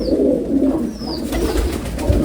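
Pigeons coo softly at close range around a young Ferozpuri pigeon chick, with low murmuring calls throughout and a couple of faint higher chirps.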